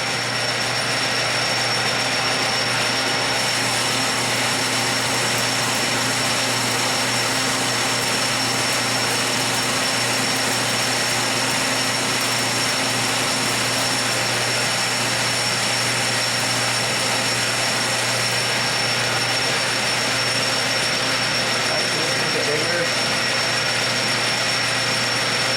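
Milling machine at 270 RPM cutting an ER32 hex fixture, a continuous steady machining whine with a high tonal hum over a broad noise bed, no voices.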